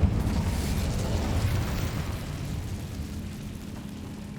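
A fire spell bursts into a roaring whoosh in Hogwarts Legacy, starting loud and rumbling into a steady crackling burn that slowly fades.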